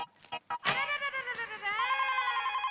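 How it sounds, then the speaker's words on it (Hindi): A telephone rings in a household scene from the Indian sitcom Taarak Mehta Ka Ooltah Chashmah, a sustained warbling electronic tone that starts after a few brief knocks or voices and continues steadily. "अरे हाँ वो भीड़े का ही मुझे अभी फोन आया था"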